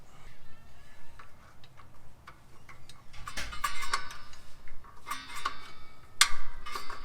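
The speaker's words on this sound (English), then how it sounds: "So I'm moving the adjuster up to tighten the emergency brake, and it's pushing the brake shoes out." A Land Cruiser 100 series parking brake adjuster being turned to push the brake shoes out, giving a run of small sharp ratcheting clicks in irregular bursts, close but faint over low background noise.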